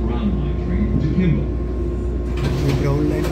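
A Chicago CTA Brown Line elevated metro train at Diversey station gives a steady, close rumble with a low drone throughout, brightening into a louder hiss near the end, while a voice talks over it.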